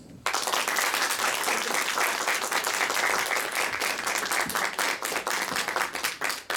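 An audience breaks into loud, sustained applause after a short quiet start, dense clapping holding steady for several seconds before thinning into a few scattered claps at the end.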